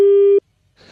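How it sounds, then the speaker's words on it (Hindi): Telephone busy tone after a line disconnects, one loud steady beep that cuts off abruptly, followed by silence and then faint noise. "वो टेलीफोन लाइन कट गई थी मेरे ख्याल से"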